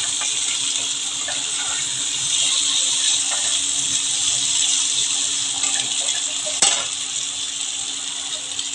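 Kajoli fish frying in a pan gives a steady, close sizzling hiss as a little water is added, with one sharp crackle near the end and no talking.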